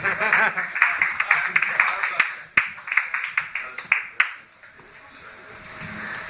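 A comedy club audience claps to welcome comedian Nick Anthony, with loud, fairly sparse individual claps close by that thin out and fade within a few seconds, while a voice speaks over the applause.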